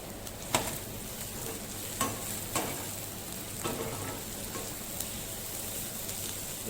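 Onions fry with salt in a pan, a steady close sizzle broken by a few sharp scraping stirs spaced about a second or two apart.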